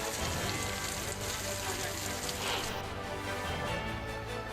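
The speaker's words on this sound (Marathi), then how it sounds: "पैठणमध्ये अवकाळी पावसाने हजेरी लावली" Unseasonal rain pours down steadily in Paithan, a dense continuous hiss that is faint and distant, with a murmur that may be voices beneath it.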